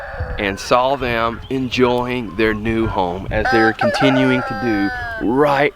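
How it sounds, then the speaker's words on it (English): Roosters crow around a mobile chicken house on a morning farm, their calls mixed in with steady talking close to the microphone. "Came out here, heard the roosters crowing"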